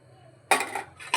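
A spoon stirs semolina in boiling water in a pot for pithe, clattering against the metal in two short, close bursts after a quiet start.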